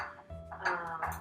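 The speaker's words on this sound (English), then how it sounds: "I'm gonna mix everything just to make sure that everything is evenly" Beet salad is tossed in a bowl, with soft clinks and scraping of utensils against the dish, quiet and close, in a few short bursts.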